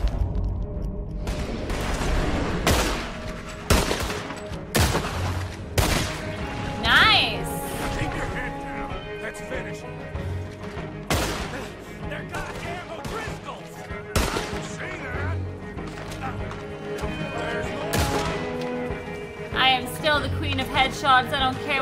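Repeated gunfire in Red Dead Redemption 2, sharp loud shots scattered irregularly over the whole stretch, some close together in bursts, with someone talking over and between them.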